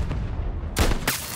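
Sniper rifle headshot in Battlefield 2042: a heavy, loud rifle crack with a booming low thump, then a second sharp burst, over a dense rumble of background combat.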